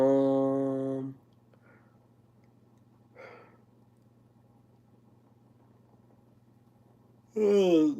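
A long, voiced yawn from a man opens the clip, followed by a quiet stretch with a steady low hum and a brief breath, then another drawn-out vocal sound at the end.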